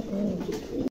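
A pair of blue barless pigeons gives one close, soft, throaty coo lasting about a second before cutting off.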